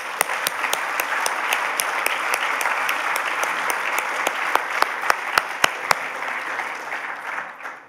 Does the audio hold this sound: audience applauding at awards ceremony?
yes